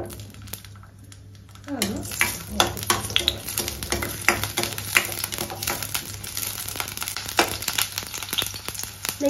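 Crushed shallots frying in hot oil in a pan for a Kerala-style sardine curry. A steady, close crackling sizzle starts after a short quiet moment, broken by sharp pops and spatters and the scrape of stirring.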